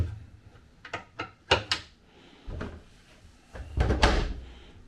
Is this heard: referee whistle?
no